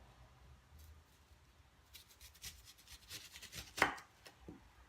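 A knife slicing through a large onion on a cutting board, a few soft cuts building to one crisp louder chop near the end, close and quiet.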